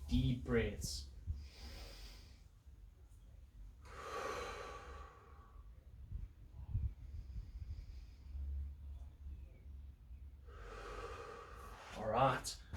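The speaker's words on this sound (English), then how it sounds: "So nice big breath in and out" A person taking slow, deep breaths in and out, each long airy inhale and exhale coming close and clear and separated by quiet pauses, with a brief voice near the start.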